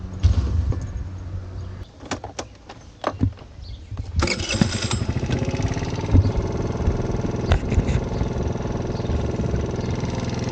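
A motor scooter gives a few knocks and clunks, then its engine starts and runs with a steady buzzing drone, fairly close, carrying through to the end.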